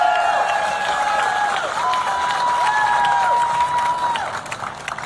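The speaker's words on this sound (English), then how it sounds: "Give him a round of applause." A political rally crowd claps and cheers for a sheriff, a broad wash of applause with raised voices and shouts riding over it before it begins to fade.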